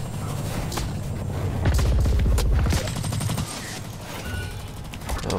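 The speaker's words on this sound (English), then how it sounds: "Oh, grenade!" Explosion in the shooter Blacklight: Retribution: a loud, low rumbling burst that swells for about a second amid steady gunfire and clatter, then fades back to the ongoing firefight.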